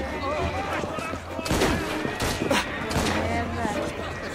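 Police firing guns in Assassin's Creed Syndicate: a burst of several loud gunshots clustered around the middle, set against steady game ambience and a low hum.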